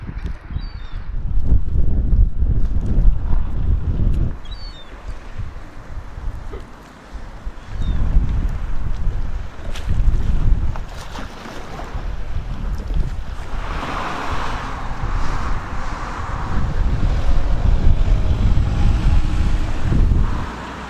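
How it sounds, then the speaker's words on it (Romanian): Strong gusty wind buffets the microphone at a seaside port in Senj, Croatia, rising and falling in loud surges over a steady background of waves. "Suntem chiar pe port, cam bate vântul"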